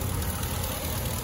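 The 5.7-liter V8 Hemi in a 2019 Ram 1500 Laramie runs at a steady, close idle, a dense even rumble that never changes.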